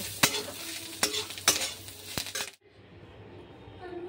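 Capsicum, carrot and egg fry in a pan for egg chowmein, a close sizzle punctuated by five sharp clinks of a utensil against the pan before the sound cuts to near silence.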